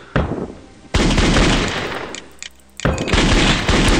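Loud, dense bursts of gunfire from an upgradable gun in the flash game Balloon in a Wasteland, two long rapid volleys with a short lull between them, close and overpowering.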